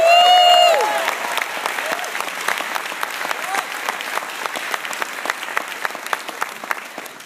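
Convocation audience at the Grand Hyatt Hotel in New York applauds a graduate speaker coming to the podium, a sustained burst of many hands clapping that begins full, settles slightly and carries on steadily.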